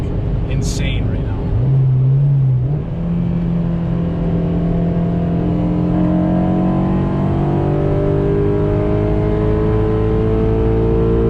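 A Honda K20 car engine with VTEC pulls hard and accelerates steadily, its pitch rising smoothly over several seconds, with a brief voice at the start.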